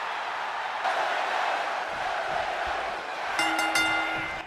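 A wrestling arena crowd roars steadily in WWE 2K25, a dense wash of cheering with a brief whistle-like tone near the end.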